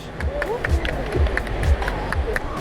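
Beach audience at Solar Beach clapping for a prize winner, a brief burst of claps with crowd murmur and a voice talking over it.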